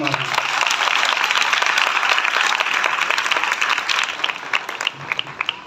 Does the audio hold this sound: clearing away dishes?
no